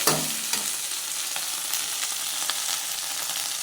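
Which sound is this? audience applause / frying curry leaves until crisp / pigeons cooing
frying curry leaves until crisp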